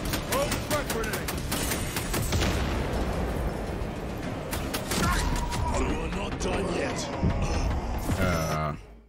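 A grenade detonates in Space Marine 2, heavy booming blasts tangled in dense rattling gunfire and chaotic battle noise, loud throughout, then cutting off abruptly at the end.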